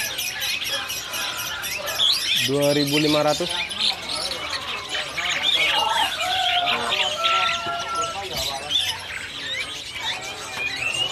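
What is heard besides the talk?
jalak Hongkong myna bird calling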